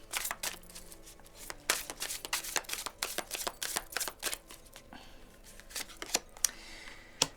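Lise Bartoli oracle cards being shuffled and drawn by hand, a close run of quick crisp riffling snaps and slides in rapid irregular bursts, with no voices over them.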